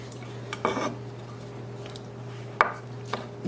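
A knife julienning vegetables on a cutting board, with a few sharp, separate chops and taps against a quiet, humming kitchen background, no talk.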